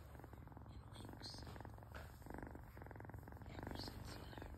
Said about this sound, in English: Ever since he learned to purr.